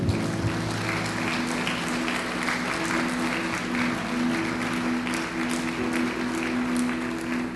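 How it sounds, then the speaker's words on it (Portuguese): Continuous congregation applause during a church service, a dense roar of clapping that holds at a steady level throughout, with a sustained musical tone underneath. "Pode aplaudir o nome dele?"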